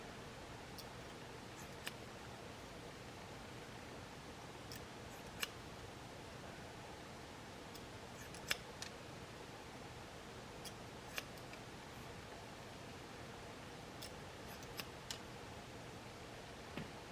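Scissors snip through a boy's hair on top of his head during a basic haircut, giving sparse, faint, crisp clicks spaced irregularly over a quiet room hiss.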